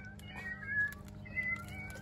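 A cat meows a couple of times at close range over a steady low background hum, with no voices heard.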